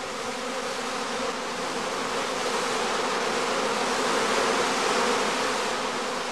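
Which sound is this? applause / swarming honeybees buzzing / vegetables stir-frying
swarming honeybees buzzing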